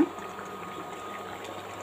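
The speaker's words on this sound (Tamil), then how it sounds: "குழம்பு நல்லா கொதிச்சிட்ருக்குங்க." A steady low bubbling of ridge gourd curry with ground coconut paste simmering in a pot, soft and continuous with no talking.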